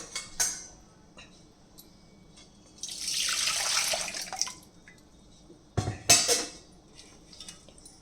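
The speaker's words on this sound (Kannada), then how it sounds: "ನೀರು ಆ್ಯಡ್ ಮಾಡೋಣ" Water pours into a container for about two seconds, a steady splashing stream, framed by a few sharp clinks and knocks of kitchenware.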